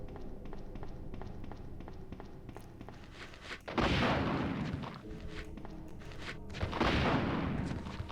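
Rocket launcher fired in Resident Evil 2: two heavy, broad blasts land a few seconds apart, each swelling loudly and decaying into rumbling reverberation over quieter ticking and footsteps.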